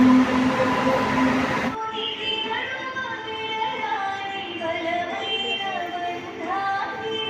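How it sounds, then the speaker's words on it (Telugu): A passenger train pulls in on the Telangana Express route, first a loud rumble, then quieter squealing and rolling clatter of wheels on rails, with faint voices of a station in the background. "ఏదో ట్రైన్ అయితే వచ్చింది"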